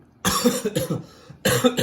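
Two rough, raspy coughs, close by, separated by a brief pause.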